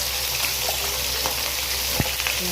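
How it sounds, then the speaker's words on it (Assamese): Fish heads seasoned with salt and turmeric sizzle steadily in a hot pan of oil, a dense, even crackle with a few louder pops, close up and with no talk. "মাছৰ মাথাখিনি ভাজিছোঁ"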